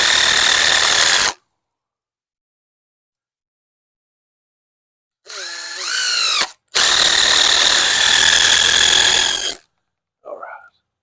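A power driver runs heavy-duty screws together in loud, close bursts of whirring, separated by silent gaps, with a short final spurt at the end.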